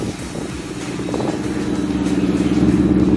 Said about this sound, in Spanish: Acá modificaron el escape respecto al GT para que suene un poco más grave.